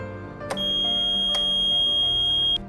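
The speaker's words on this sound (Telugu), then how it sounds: "మీ బటన్ నొక్కినప్పుడు ఇక్కడ ఎర్ర బల్బ్ వెలుగుతుంది, తర్వాత సౌండ్ వస్తుంది, బీప్ సౌండ్ అని వస్తుంది" Electronic voting machine beeps after its vote button is pressed: two brief clicks, then a steady high electronic tone holds clearly for about two seconds before cutting off.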